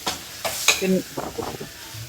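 Chicken masala with turmeric and spice powders is stirred as it fries in a pan: close scraping strokes of the spoon over steady sizzling, with a few sharp clinks against the metal.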